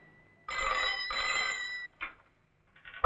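An old-style telephone bell rings in two long trilling bursts and then a short third burst, loud and close in an indoor scene, with no talking over it.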